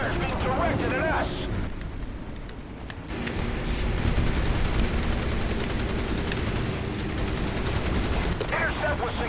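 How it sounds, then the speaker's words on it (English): Naval gunfire during a carrier battle at Cape Engano in the Battlestations Pacific Remastered video game: a dense, continuous barrage of guns and blasts, loud and sustained, with game voices speaking over the din. "Enemy fire is being directed at us."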